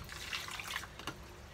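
Spring water is poured from a cup, a quiet, brief splashing trickle with no talk.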